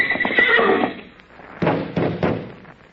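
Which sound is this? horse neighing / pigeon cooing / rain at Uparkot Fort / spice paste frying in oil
horse neighing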